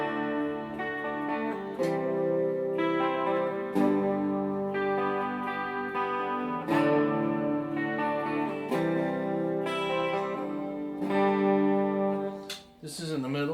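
Clean electric guitar, a 2002 Epiphone Les Paul Standard, with a shimmering chorus effect and distortion off, strummed chords ringing out and changing every couple of seconds.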